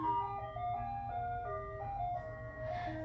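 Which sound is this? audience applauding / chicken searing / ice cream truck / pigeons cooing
ice cream truck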